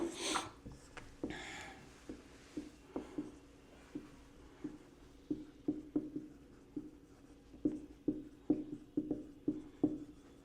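Chalk or marker strokes on a board as a lecturer writes out a list of drug names, a steady run of short scratchy taps and squeaks at close range with no talk.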